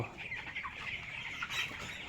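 Chickens spread through a poultry shed with slightly damp litter cluck in a continuous overlapping chorus, a dense, moderately loud flock murmur with a few sharper calls rising out of it.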